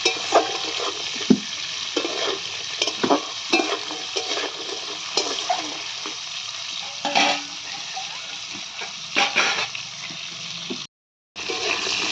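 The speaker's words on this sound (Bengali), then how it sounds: "আর এগুলো আমি একটু নুন হলুদ দিয়ে ভেজে নেব।" Shrimp legs frying in a pan with salt and turmeric, a steady close sizzle broken by repeated stirring scrapes, with a short silent gap near the end.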